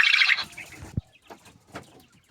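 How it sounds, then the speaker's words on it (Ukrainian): Female quails kept alone in a cage, about thirty of them, give a few soft chirps and rustles at close range after a brief burst of hiss-like noise, with quiet gaps between calls. "В цій клітці тут, де самі перепілочки"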